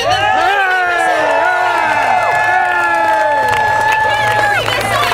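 Crowd at an Occupy Santa Rosa rally cheering and whooping loudly, many overlapping high voices shouting continuously for several seconds.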